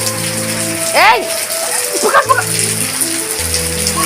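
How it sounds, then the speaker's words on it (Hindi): Morning rain falls on a surface in a steady, hissing patter beneath music, with a brief spoken word and a voice over it. "अब बारिश का मजा ले रहा"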